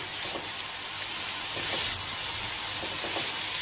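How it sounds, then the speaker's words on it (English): Green capsicum mixture stir-fries on a medium-high flame, a bright, even sizzle and hiss heard up close, with a few faint scrapes of stirring now and then. "Keep stirring it on medium to high flame for approximately 1 minute."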